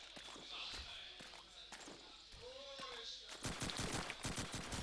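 Gunshots ring out during a competitive shooter match, several sharp cracks and a rapid burst of fire near the end, mixed with footsteps and heard under a commentator's talk.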